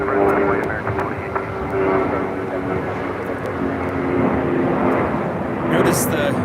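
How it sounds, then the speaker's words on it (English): An Airbus A319 airliner with standard wingtips takes off from runway 25 right at LAX, its steady jet roar sustained and fairly loud throughout, with voices talking over it. "Notice the difference on this A319 with the wingtips versus the next takeoff."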